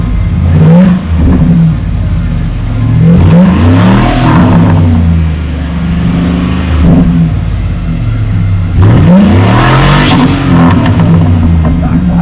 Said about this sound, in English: Somebody told me you like loud exhaust.